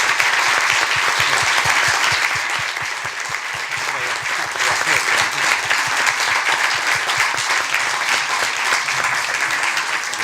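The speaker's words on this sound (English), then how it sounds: "A warm applause to Commissioner Potočnik." An audience applauds a speaker, Commissioner Potočnik, with loud, dense, continuous clapping that stays steady for about ten seconds.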